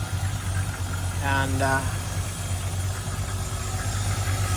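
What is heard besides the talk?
MGB engine idling in Land Rover 110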